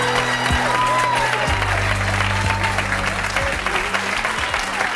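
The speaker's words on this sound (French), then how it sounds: "je vous demande de l'applaudir très chaleureusement" A TV studio audience gives sustained, warm applause for the young comedian Nabil, a steady, dense roar of clapping over a low background hum and faint music.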